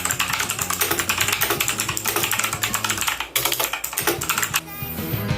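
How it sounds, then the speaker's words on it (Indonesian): Rapid, steady clacking of keys on an MKA 9C Pro mechanical keyboard, close and continuous with dense keystroke rhythm, easing off near the end. "Langsung aja kita dengar suara ketikannya."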